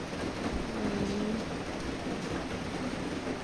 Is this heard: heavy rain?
yes